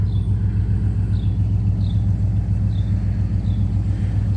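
An old Chrysler car's engine idles steadily close by, a continuous low throbbing rumble with an even pulse and faint periodic ticking above it, with no voices.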